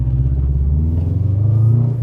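Subaru Impreza WRX with an upgraded exhaust, giving a deep, loud, continuous rumble that rises slightly toward the end, close by with no talking.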